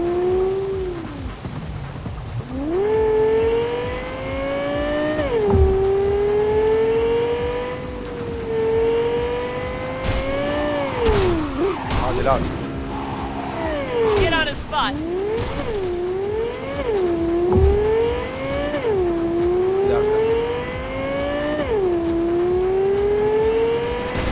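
A car engine in a Cyberpunk 2077 race revs hard in repeated rising surges, with gear-shift drops and tire squeal, loud and close under excited talk.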